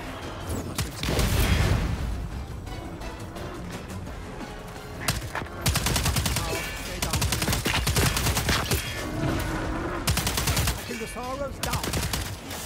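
Rapid automatic gunfire in the co-op shooter Second Extinction, sustained loud bursts against creature noises and explosions.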